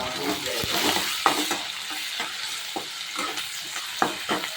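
Poha with turmeric stirred in a hot pan: a soft sizzle under repeated scraping strokes and light clacks of a spoon against the pan, irregular and close, with no one talking.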